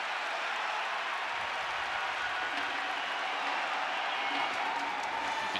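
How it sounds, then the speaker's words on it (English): A soccer stadium crowd at an Austin FC home match against FC Dallas roars as a broad, steady wash of noise with scattered clapping, sounding distant and continuous. "You can hear the crowd at Q2 rising to their feet behind the goal, looking for an equalizer here before the halftime break."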